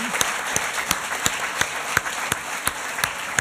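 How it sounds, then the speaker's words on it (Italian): Audience applause welcoming an under-14 youth football team at an Italian local event, steady even clapping filling the whole stretch, with sharp hand hits standing out at a regular rhythm and no talk. "Un applauso. Un bel applauso."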